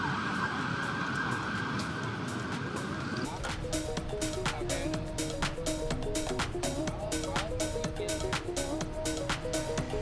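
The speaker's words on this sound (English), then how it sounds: "Now we're hearing sirens everywhere." Wailing sirens rise and fall over a busy street hum in Saigon's District 1, Vietnam, fairly distant, with a voice talking briefly at the start.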